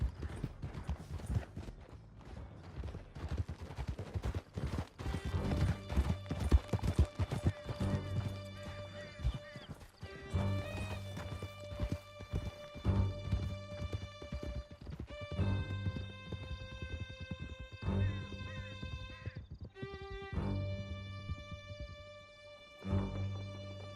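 Horses gallop at speed through a canyon in Red Dead Redemption 2, hooves clattering in a steady loud rhythm under a swelling orchestral score that runs throughout, with brief pauses and accents.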